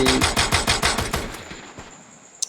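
Rapid automatic gunfire from a video game gun fills a dense, loud burst for about a second and a half, then thins into a quieter tail with a faint steady tone and one sharp click near the end.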